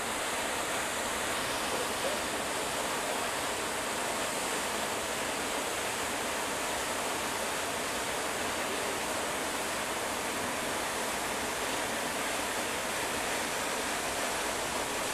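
Water rushes steadily through an open floodgate down the spillway of Prettyboy Reservoir dam near Baltimore, a constant broad roar that stays even and fairly distant with no breaks.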